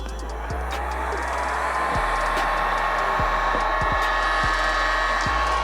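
A heat gun blows a steady, loud, even roar with a faint whine, played over the creases of a 1985 Air Jordan Kentucky OG sneaker, continuous and close without pause.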